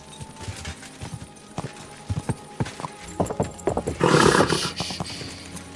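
A horse gallops in Kingdom Come: Deliverance II, its hoofbeats thudding in a steady rhythm that grows louder and denser toward the end, with no talk over it.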